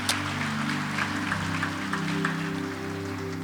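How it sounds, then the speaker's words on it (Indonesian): A Christmas Day church congregation claps sparsely and hesitantly, with thin scattered claps over a steady sustained hum or music that stays prominent throughout. "Kenapa ya kalau di sini tepuk tangannya agak ragu-ragu gitu tuh."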